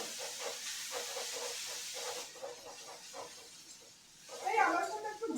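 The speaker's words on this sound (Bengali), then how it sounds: "এবার এটাকে একটু ভেজে নেব।" Ginger-garlic paste frying with onions in a hot pan gives a steady close sizzle and hiss that fades toward the end, with a spoon scraping and a voice talking over it.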